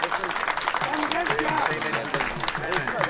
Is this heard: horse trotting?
no